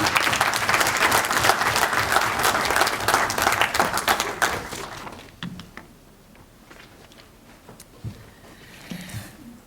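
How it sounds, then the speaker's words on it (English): A crowd at a stakeholder report gathering applauds a Nobel Prize winner, loud dense clapping that fades after a few seconds into scattered claps and light room noise. "Another big round of applause for our Nobel Prize winner"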